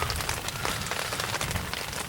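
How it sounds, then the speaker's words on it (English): Steady heavy rain pattering on surfaces outdoors during a thunderstorm while backpacking, a dense continuous hiss of drops close by with no voices. "but it is raining."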